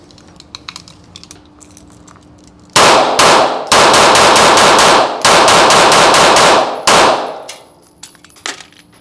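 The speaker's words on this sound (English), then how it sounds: "Dude, you shoot that thing really flat." Rapid volleys of pistol gunshots from an Archon Type B handgun, loud and close, fired in several quick strings separated by short pauses, with no talking.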